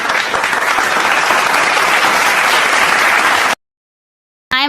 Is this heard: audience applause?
yes